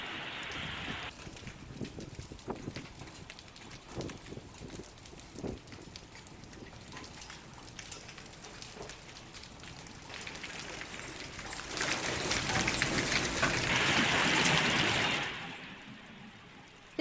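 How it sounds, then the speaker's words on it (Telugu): Heavy rain falls in Telangana during a hailstorm, a continuous hiss of drops on surfaces that swells louder for several seconds near the end, steady and without voices. "భారీ వర్షం కురిసింది."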